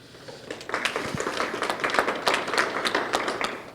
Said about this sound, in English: Nice applause for our friend David.